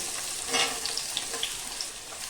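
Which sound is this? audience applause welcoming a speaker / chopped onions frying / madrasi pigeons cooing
chopped onions frying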